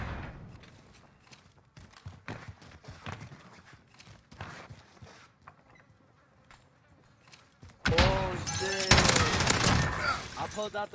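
Bursts of MG-34 machine gun fire in a first-person shooter game, sporadic shots and crackles at first, then a loud, dense sustained stretch of rapid automatic fire near the end.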